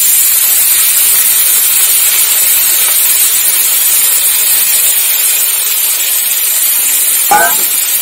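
Red lentils hit hot oil with fried garlic, onion, black cumin and chilli. A loud, steady, bright hiss runs unbroken throughout, and a brief utensil clatter comes near the end.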